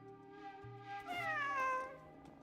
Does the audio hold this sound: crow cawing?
no